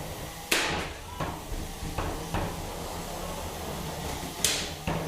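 Combat robots fighting in an arena at a Havoc Robot League event, with a weed-whacker robot among them, producing sharp metallic bangs and impacts at irregular intervals over a low mechanical hum, moderately distant.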